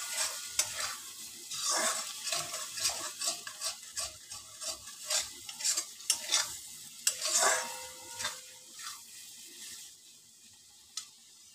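Coriander powder, chilli powder, salt and turmeric being stirred into a mixture in a pan, with a steady series of scraping spoon strokes over a soft sizzle and occasional sharp clinks against the pan, fading near the end.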